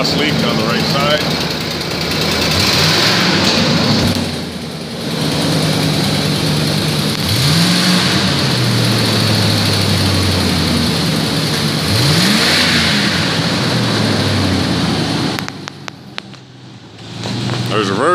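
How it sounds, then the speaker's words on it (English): Close, loud 2006 Ford F-150 XLT pickup engine with an exhaust leak on the right side, running with a raspy, puffing exhaust note, revving up a few times and settling back, a voice speaking over it. "Exhaust leak on the right side."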